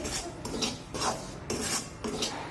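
A spoon scrapes and stirs semolina dry-roasting in a pan for rava ladoo, rhythmic gritty rasping strokes repeating about every half second, close and steady with no voices.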